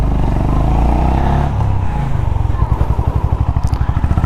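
A Honda H'Ness CB350 motorcycle rides along in first gear near 50, its engine a loud, steady drone that shifts into a pulsing, thumping beat partway through, with a voice faintly present beneath.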